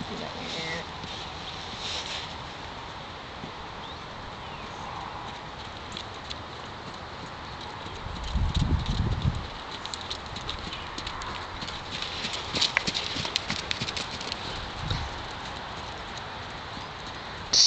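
Hooves of a horse clip-clop in a steady rhythm on arena footing during musical freestyle dressage practice at a farm, moderately distant, with people talking faintly in the background.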